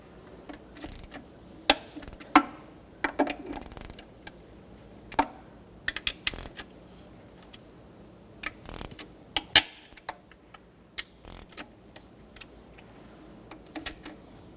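Ratchet with a 12mm socket snugging up the valve cover bolts on a 2014–2019 Toyota Corolla 1.8L L4, scattered close metallic clicks and short ratcheting bursts separated by quiet pauses.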